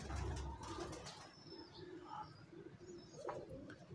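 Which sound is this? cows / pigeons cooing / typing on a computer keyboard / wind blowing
pigeons cooing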